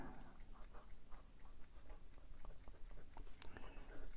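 Asvine P20 fountain pen with a medium number 6 steel nib writing on Clairefontaine 90 gsm paper, a close, soft continuous scratching with small tick-like strokes over a steady low background hum.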